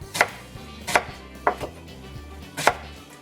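Onions chopped into big chunks with a knife on a cutting board while preparing a seafood boil, four sharp, separate thuds at an uneven pace, close and clear, with no talking.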